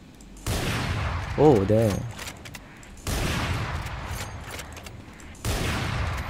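Three loud sniper rifle shots in the tactical shooter game Valorant, evenly spaced about two and a half seconds apart, each a sharp crack with a ringing tail, with a brief spoken exclamation between the first two.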